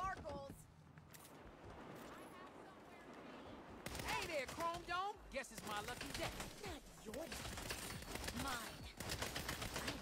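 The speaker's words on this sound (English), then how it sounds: "Do you see me now shooting?" Rapid gunfire bursts from the Saints Row video game, loud and dense, mixed with engine and effects noise while people talk over the action.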